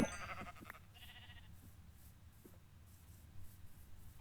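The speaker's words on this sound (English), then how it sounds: "Okay, we got a sheep." A sheep in the Minecraft video game lets out a short nasal bleat, quiet against faint game ambience, with no one talking.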